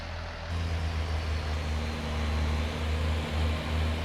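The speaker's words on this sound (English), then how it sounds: "This is the first time I've driven this tractor" Tractor engine idling steadily in Farming Simulator 19 on a dairy farm, a low droning hum that kicks up slightly louder after a brief start and holds a continuous rumble without talk.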